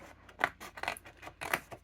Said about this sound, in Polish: Żeby nie było, wytnę teraz nimi tutaj e, sobie te listki.